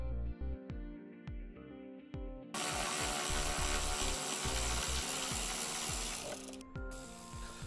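Power tool driving out bolts on a 2004 Mini Cooper during a base plate install, a steady loud whirring burst lasting several seconds after a few sharp ratchet-like clicks, with a brief pause near the end.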